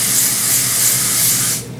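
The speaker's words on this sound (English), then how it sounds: "And you're gonna hairspray that." Hairspray sprayed onto slicked-back hair in one loud, steady, close hissing burst that lasts about a second and a half and then cuts off.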